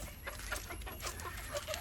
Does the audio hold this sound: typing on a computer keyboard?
no